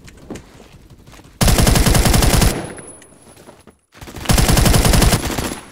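Type 20 automatic gunfire in the video game Phantom Forces: two loud, close full-auto bursts of rapid shots, each about a second long, separated by a short lull.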